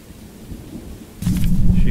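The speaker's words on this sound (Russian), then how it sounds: "дождь еще этот идет" Rain and a low rumble of thunder in the horror game Choo-Choo Charles, quiet at first, then a loud burst of storm noise swelling up and holding through the end.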